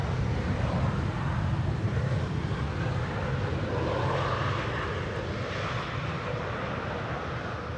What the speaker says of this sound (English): German Airways Embraer 190 with the pointillism inspired tail